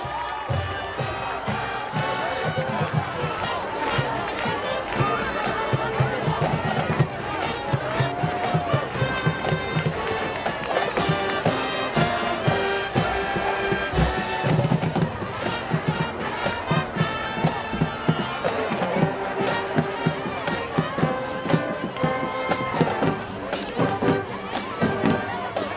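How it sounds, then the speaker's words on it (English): A crowd cheers for the Wildcat high school football team at an Evanston Township event, a loud sustained roar of voices and shouts mixed with music and rhythmic clapping throughout. "let's hear it one more time for your Wildcat football team, and let's cheer them on for victory"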